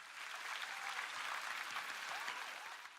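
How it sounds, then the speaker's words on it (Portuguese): A church congregation applauds steadily after an outdoor service in the rain, a dense, continuous wash of clapping from a large crowd that holds strong for the full stretch before easing slightly at the end. "Dê para si mesmo um grande aplauso, igreja."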